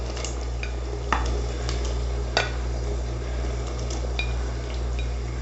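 Fried mutton added to a gravy pot for Afghani mutton, with a few sharp clinks of a utensil against the pot over a low steady hum, close and fairly quiet.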